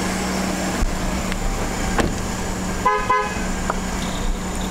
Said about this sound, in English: Our truck always beeps if the keys aren't in it.